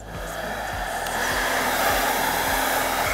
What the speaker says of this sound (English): So definitely hairdryer.